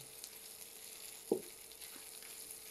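Fish frying in oil in a pan, a faint steady sizzle with one brief sharp clatter near the middle, no voices.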